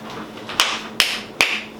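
Three sharp sync claps mark the start of a recording segment. They are evenly spaced about half a second apart, close and crisp, with a quiet room behind them.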